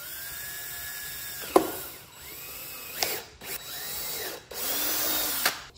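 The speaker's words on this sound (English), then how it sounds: "I drilled into here kind of with a pilot bit" A power drill with a pilot bit bores into a C5 Corvette during installation of an AEM wideband O2 gauge, whining up and down in several short bursts, fairly close, with no talking.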